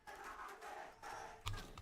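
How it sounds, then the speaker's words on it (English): Stadium crowd chanting at a Valorant esports grand final in Jakarta, a distant, muffled swell of many voices in rising and falling waves, capped by a brief louder burst. "the crowd here in Jakarta was chanting for Boom"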